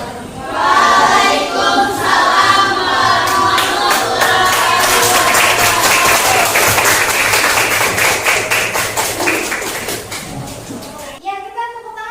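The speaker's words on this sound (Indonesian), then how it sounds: "Ya, kita tepuk tangan untuk kita semua." Audience applause and clapping in a classroom after a student group's presentation during a teaching performance exam, loud and sustained for about eleven seconds with scattered chatter mixed in, then cutting off abruptly.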